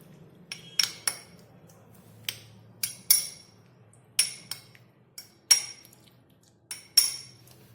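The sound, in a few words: spoon mixing green food colour into watermelon-rind tutti frutti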